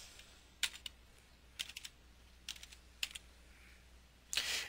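Several short bursts of keystrokes on a computer keyboard, close and fairly quiet, separated by brief pauses in a quiet room, with no talking.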